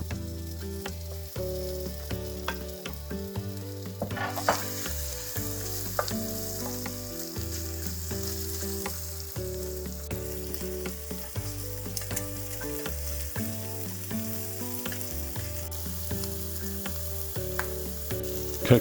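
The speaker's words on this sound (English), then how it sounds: "Once hot, add your seasoned shrimp." Seasoned shrimp frying in hot olive oil in a pan, giving a steady, even sizzle that runs the whole time beneath prominent background music.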